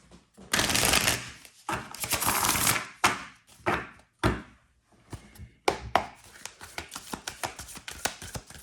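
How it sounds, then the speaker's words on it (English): Oracle card deck shuffled quickly by hand, with bursts of riffling and rapid card flicks, several clustered brushes and taps close up, no talking. "Try to shuffle it real quick."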